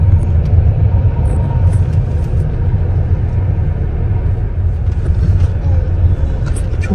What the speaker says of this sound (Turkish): Aşırı derece trafik var.